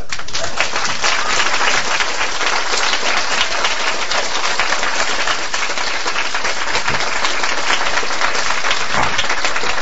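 A large audience at an Amway talk applauds in a dense, sustained roar of clapping that holds steady for about ten seconds, loud and close with no speech over it.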